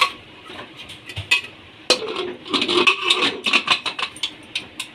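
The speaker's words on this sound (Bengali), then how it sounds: "এবার নেড়ে ঢাকা দিয়ে দেবো" A pot of vegetable curry with turmeric and baking soda is stirred with a spoon, giving uneven metallic scraping and clattering strokes close by, then denser rubbing and knocking as the pot is worked and covered.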